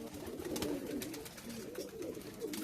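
Pakistani high flyer pigeons in a loft in Kuwait coo softly and repeatedly, with a low murmuring rhythm and faint flutters, no voices.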